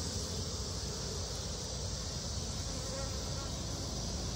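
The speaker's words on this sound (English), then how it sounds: "I look at the hive, I listen to it to see how loud the bees are" Honey bees in an open hive during an inspection, a dense, continuous, close buzzing drone that stays loud and even throughout with no talk.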